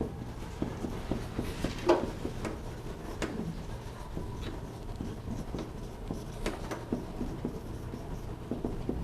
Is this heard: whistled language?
no